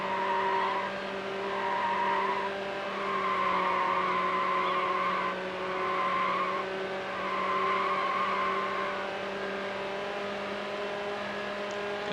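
A Ferrari race car in the Need For Speed Hot Pursuit 2 video game drones at a loud, sustained engine pitch that rises and falls as it accelerates and shifts, while tire skids screech repeatedly through the championship race.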